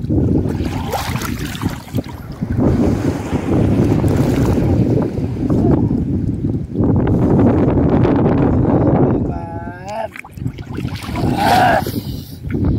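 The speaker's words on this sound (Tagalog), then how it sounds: "Ang lakas ng alon, ano?" Loud, continuous roar of large surf and wind buffeting the microphone after a typhoon, with people shouting and talking over it.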